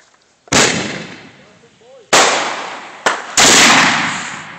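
An AK-47 rifle is fired outdoors, giving three loud, sharp cracks, each followed by a long decaying echo, plus a brief softer pop between the second and third, with a faint voice before the first shot.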